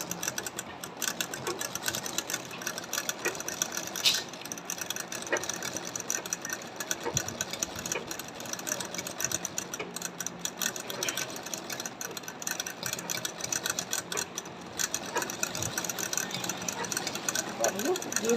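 Embroidery sewing machine running a plain stitch, a continuous fast ticking mechanical rattle that keeps going steadily throughout at moderate loudness.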